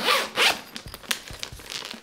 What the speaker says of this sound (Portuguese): Você abre o zíper dele aqui,